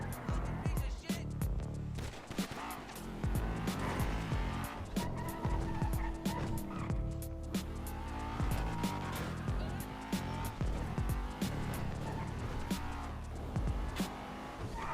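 Cars racing in the video game GTA 5, continuous engine roar with repeated tire skids and squeals, loud and dense, with a voice talking over parts of it.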